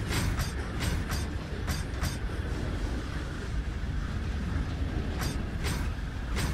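An Indian Railways OHE inspection train crosses over onto another track, giving a loud, continuous rolling rumble broken by sharp periodic clicks and clatters from the wheels passing the points.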